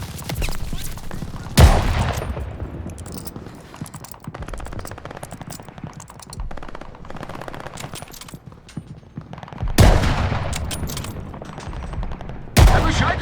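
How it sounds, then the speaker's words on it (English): Enemy gunfire pours down from upper windows in Call of Duty Vanguard, with sustained automatic crackle and several loud, sharp blasts standing out at intervals against the continuous firefight. "We are getting shot from above!"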